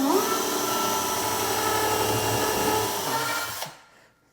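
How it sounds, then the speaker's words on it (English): Cordless drill running steadily in a drawer installation, driving screws through a drawer box into the drawer face with the bit rubbing on the box bottom, a continuous whirring motor at close range that cuts off abruptly near the end. "this drill's not in hammer drill mode. It's just rubbing on the bottom of the box, so that's just what it's doing."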